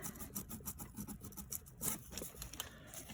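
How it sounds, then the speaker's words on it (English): Small piece of sandpaper rubbing inside a part from a Self Winding Clock Company clock under restoration, a quiet close scratchy rasp in quick irregular back-and-forth strokes, with no talking. "you can always use a little piece of sandpaper in it"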